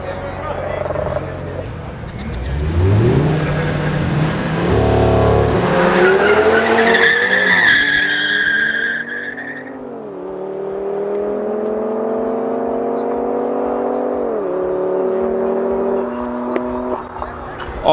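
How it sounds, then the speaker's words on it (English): An Audi RS3 and a BMW M2 street racing in Johannesburg, engines revving hard and accelerating through gear changes with tire squeal, then fading into a steady distant drone as the cars pull away. "Next up is a RS3 going up against the M2."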